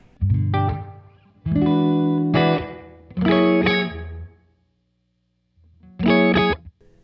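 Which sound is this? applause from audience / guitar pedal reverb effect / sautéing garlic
guitar pedal reverb effect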